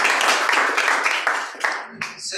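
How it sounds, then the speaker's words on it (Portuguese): A church congregation at an evening celebration service breaks into dense, lively applause lasting about two seconds before it thins and fades out. "Você pode dar um forte aplauso ao Senhor?"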